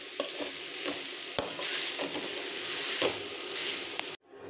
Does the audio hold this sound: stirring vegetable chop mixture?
yes